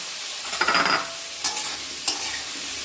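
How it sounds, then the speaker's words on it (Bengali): Cut potatoes with salt and turmeric frying in oil and being stirred in a pan over medium heat for a cabbage-potato bhujia, a steady close sizzle broken by a few sharp scraping stirs. "এখন মিডিয়াম আঁচে হালকা করে ভেজে নেব"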